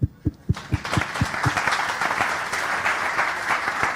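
Scattered individual claps from a conference audience quickly swell into a full, steady round of applause that keeps going at an even, fairly loud level.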